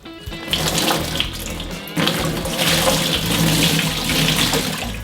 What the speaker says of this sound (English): Now I'm just going to pour a little bit of water on the outside of the turkey to get some of the extra brine off.